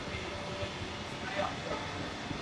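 A Kolkata tram rolls along its rails with a steady, close rumble and a hissing, rattling drone from inside the car.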